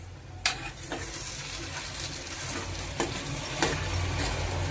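Eggplant and taro curry cooking in a pan, a soft steady sizzle and bubble with a few light stirring clicks and taps, faint and close.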